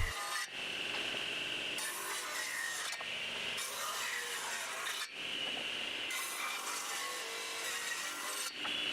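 A power saw, straining under the load, rips 2x4 lumber down to 2.5-inch width, giving a continuous rough, rasping cut with brief dips every couple of seconds, steady and unaccompanied by speech.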